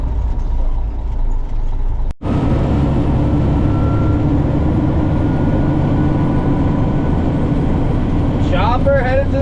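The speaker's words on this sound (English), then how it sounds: "Chopper headed to the next job." Forage chopper driving down the road to the next corn-chopping job, a loud steady diesel engine and road rumble droning throughout with a brief cut near the start and a voice joining at the very end.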